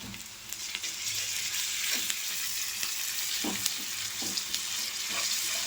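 Browned onions fry with ginger-garlic paste for a fish curry, a constant bright sizzle with occasional spoon scrapes and taps against the pan as it is stirred.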